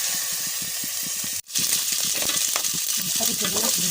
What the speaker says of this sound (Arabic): بنحط الرز بالزيت يتغلى